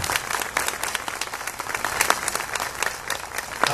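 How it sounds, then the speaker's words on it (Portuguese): A crowd applauds steadily, dense clapping filling the room at a strong, even level for several seconds with no voices on top. "hoje eu quero que vocês dêem uma salva de palmas para os nossos músicos"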